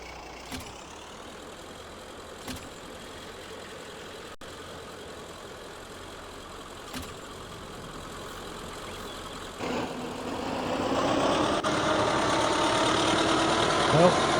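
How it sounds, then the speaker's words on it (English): A tractor engine rumbles steadily while hauling trees, a continuous low drone that swells louder near the end, with occasional knocks and thumps. "This tractor doesn't know its own strength, to be honest."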